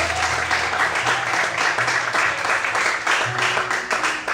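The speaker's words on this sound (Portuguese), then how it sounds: "Você pode aplaudir o Senhor?" A church congregation claps for several seconds during a sermon, a full, steady burst of applause with tones of background music beneath.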